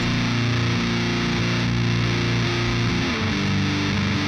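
A thick, fuzzy distorted VST plugin guitar tone plays sustained shoegaze chords with no EQ, loud and buzzy with a full, unfiltered top end, no talking.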